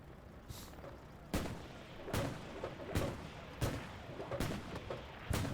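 A tank cannon fires long-range support on the Utah Beach map of Hell Let Loose, with about six sharp booms at fairly regular intervals that sound somewhat distant and subdued.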